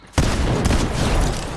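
A shotgun in Fortnite fires with a sudden sharp blast after a short quiet moment, followed by a loud, sustained crackle of gunfire close by.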